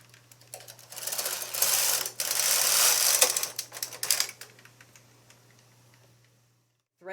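A knitting machine carriage is pushed across to knit one row of yarn, giving a loud close rattling, clicking sweep of a few seconds that fades into quiet.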